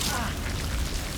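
A Confringo explosive spell going off in the game Hogwarts Legacy, a loud, dense, rumbling blast that fills the whole short moment with a burst of noise.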